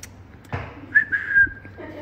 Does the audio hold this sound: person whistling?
yes